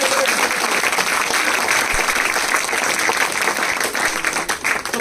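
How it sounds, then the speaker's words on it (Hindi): A crowd at a direct-selling seminar applauds loudly and steadily, a dense continuous roar of clapping hands holding for several seconds before thinning slightly at the end. "अरे जोरदार तालियां बजनी चाहिए ना।"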